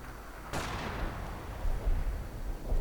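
Rocket barrage artillery fire in a World War II strategy video game lands as one sharp blast followed by a rumbling decay, with further low booms thudding underneath.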